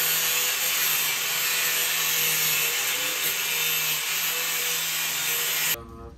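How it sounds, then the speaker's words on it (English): A tool cuts away the headlight adjuster on a B7 Audi A4 during a front-mount intercooler install, a steady loud grinding-sawing drone with a faint whine that cuts off abruptly near the end. "This headlight adjuster could just get chopped off."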